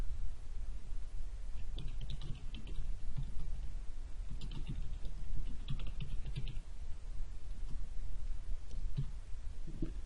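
A new page title is typed on a computer keyboard for a WordPress site, producing quiet, close key clicks in short irregular bursts across the whole stretch with no speech.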